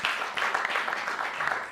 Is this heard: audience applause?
yes